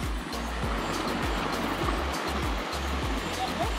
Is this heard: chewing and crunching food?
no